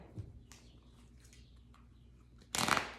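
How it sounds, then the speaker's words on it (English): A deck of cards is split and shuffled, ending in a brisk riffle burst that follows quiet handling. "There, I split the deck and shuffle it."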